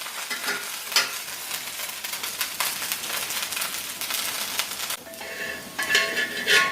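A flipped tomato dosa cooks on a hot pan with a steady, gentle sizzle, dotted with light clinks and taps of a metal spatula against the pan, heard close with no speech.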